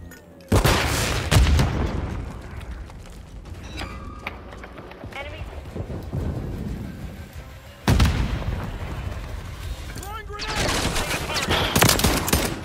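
Modern Warfare III gunfire crackles in heavy bursts with loud booms and sharp onsets, close and dense, while voices talk over the shooting.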